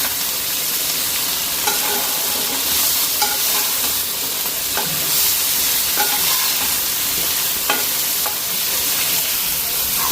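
Eggplant, chopped onion, tomato and green chili fry in a pan with a bright, steady sizzle, while repeated scraping stirs of a spatula sound close by at irregular intervals.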